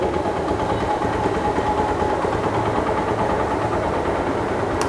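A Lifan KPR 165R motorcycle engine idles in a constant low, even throb up close, with a faint click near the end and no talking.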